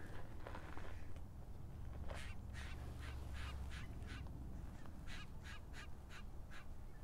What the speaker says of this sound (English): Oh, I'm hearing a bird up above me.